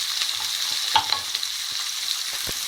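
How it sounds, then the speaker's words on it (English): Onions frying in a pan for chilli paneer, a soft steady sizzle with a few light stirring scrapes and clicks, no talk. "let those onions cook through before we add some spice to this"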